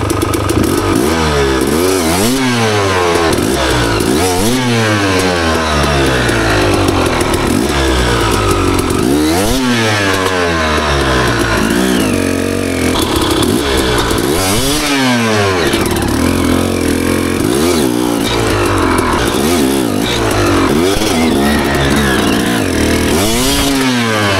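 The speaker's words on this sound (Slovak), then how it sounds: "Nakloniť motorku a otočíš ju takto plynom." A tilted motorcycle's engine revs repeatedly, rising and falling in pitch with each twist of the throttle, loud and close throughout.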